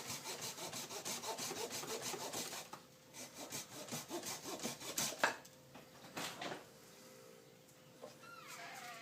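A hand saw cutting down through the trunk of a yaupon holly bonsai, close rhythmic rasping strokes that run steadily, then slow and stop near the end.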